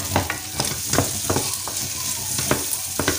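Ingredients for pasta carbonara frying in a pan, a steady close sizzle broken by repeated scraping stirs every half second or so, with no talking.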